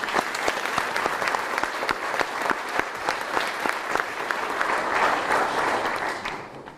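Sustained, dense applause from a standing audience at the Arkansas State athletic director introduction, honoring the coaches; steady crowd clapping throughout that tapers off at the very end.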